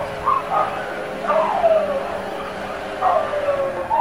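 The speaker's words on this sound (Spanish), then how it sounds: "Entonces esos perros comienzan a ladrar" Dogs barking in a Skyline GTR-R34 and Escalade racing video game, several short yipping barks in bursts with whimpering tones, moderately near over a steady background hum.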